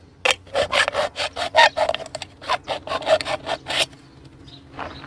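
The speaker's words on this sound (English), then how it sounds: "So I've got a slice on the bottom, a slice on the top, and now right in the middle, I'm going to make a slice." A Swiss Army knife saws through a plastic marker barrel in a quick series of rhythmic, close rasping strokes, about a dozen in a row, then stops.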